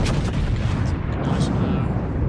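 Secondary guns on a warship in World of Warships firing in a rapid, dense barrage, a continuous rumble of overlapping booms filling the short stretch at close range.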